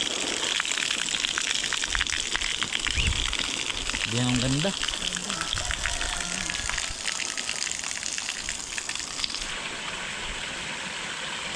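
Water gushes and flows steadily into a newly built pool among rice fields, a continuous close rushing sound, while a person speaks briefly over it.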